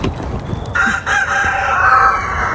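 A rooster crows loudly and close by in the evening, one drawn-out cock-a-doodle-doo over faint background chicken clucking and noise.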